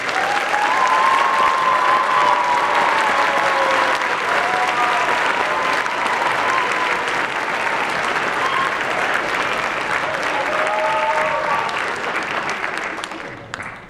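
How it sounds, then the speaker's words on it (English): Sustained audience applause for honor society members at a high school winter concert, loud and steady for about thirteen seconds before tapering off, with a few voices faintly audible underneath. "Please applaud these outstanding members"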